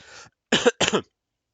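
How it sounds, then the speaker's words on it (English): A congested person with a lingering cold coughs: a rough throaty burst, a short pause, then two quick close coughs in succession before silence. "the cough is still on"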